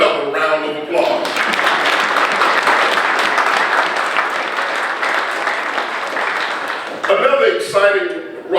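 Audience applause at a county State of the County morning address, a broad sustained wash of clapping for several seconds, bracketed by a speaker's voice at the start and end.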